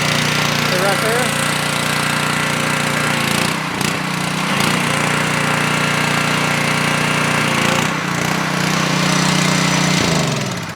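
A gas-engine pressure washer on a 4.0 skid, engine and pump running together in a loud, continuous rattling drone with brief dips in the middle, close by and unbroken.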